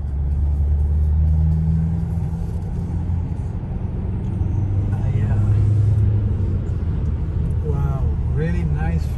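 A 2020 Mercedes-Benz E 220 car drives steadily with a continuous low engine and road rumble heard from inside the cabin. Faint voices come through briefly.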